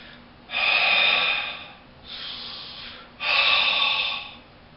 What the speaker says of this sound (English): But I'm going to take a breath first.